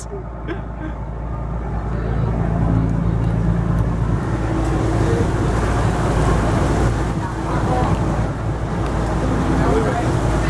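A steady low boat engine drone with rushing wind, heard on board near Kat O, Hong Kong, loud and continuous throughout, with occasional faint clatter over the constant rumble.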